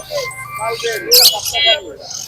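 Cockatiels chirp and twitter in short bright bursts close by at a bird market in Banasree Meradia, Dhaka, mixed in with nearby speech.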